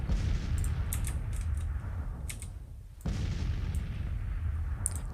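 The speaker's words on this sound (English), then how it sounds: "Now comes the artillery barrage." An artillery barrage in a Civil War strategy video game brings heavy booms and rumbling blasts over a constant low roar, with a sharp loud impact near the middle and crackling bursts scattered throughout.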